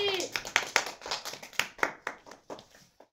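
A group of people clapping to reward a boy who won a biscuit in a ball-rolling water-glass challenge; short, uneven bursts of hand claps that fade out, with some talk mixed in.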